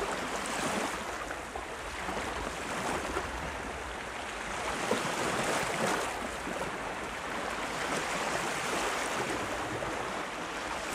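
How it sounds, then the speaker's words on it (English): Ocean waves wash in a continuous broad hiss with slow swells of surge and retreat, fairly loud and steady, with no voices over them. "When the soothing sounds of the sea enter the brain"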